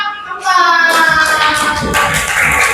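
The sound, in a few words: group applause for a student team in class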